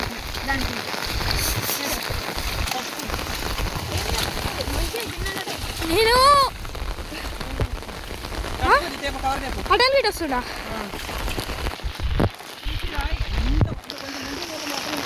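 Rainwater flows and splashes through a flooded garden with a steady watery wash, while someone talks over it close by.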